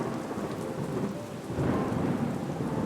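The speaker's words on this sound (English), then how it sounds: "The thunder crashed louder and louder." Heavy rain pours steadily while deep thunder rumbles and swells, growing louder toward the end, close and enveloping.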